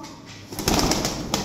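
Indian pigeons at a breeder's loft in Jhelum flutter their wings in a brief burst of flapping, with soft cooing and rustling close by after a quiet start.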